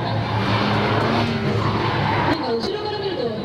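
A Toyota MR2 skids through a 1994 JAF Kanto gymkhana run with a sustained tire and engine roar, while a commentator talks over it.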